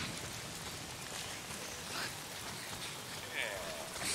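Steady rain falls in a dense, even hiss in the video game Days Gone, with a few faint chirps drifting through.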